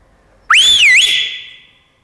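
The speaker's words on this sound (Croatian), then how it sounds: "Ali ovčar je samo puhnuo svoju zviždaljku." A shepherd's whistle gives one sustained shrill blast, rising and dipping in pitch before holding steady and fading out, loud and close, with no talk.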